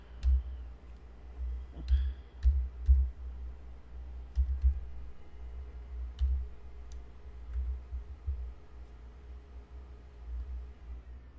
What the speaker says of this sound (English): I'm going to type in Babylon